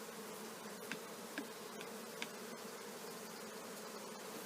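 Honey bees buzz steadily as they are gently brushed back into the hive while a honey super is being removed, a faint, dense hum with a few brief brushing ticks.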